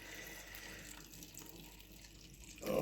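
Coconut milk poured over pumpkin and vegetables in a pot for pumpkin rice with salt fish, a steady soft liquid stream and trickle close by, ending in a louder splash.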